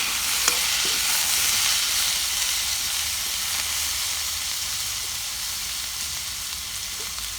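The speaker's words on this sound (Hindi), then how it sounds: "दूठा बढ़िया साइज के आलू है, ये लो बढ़िया से भून लेबो।" Two good-sized cut potatoes frying in hot oil in a pan, a loud, continuous hiss of sizzling close up with a few faint scrapes of stirring and no voices.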